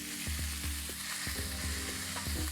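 Pork marinade hits a hot oiled wok and sizzles steadily and close, with rhythmic scraping and stirring knocks from the utensil. No voice is heard over it.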